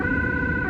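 A Dutch ambulance siren sounds in heavy rush-hour traffic, a loud, close, steady wailing tone held for the whole brief moment over low road rumble.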